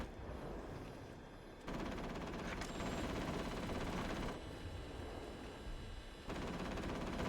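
Automatic turret fire in the Atomfall video game: sustained rapid bursts of gunfire in several long stretches separated by short pauses, loud and dense, with no talking.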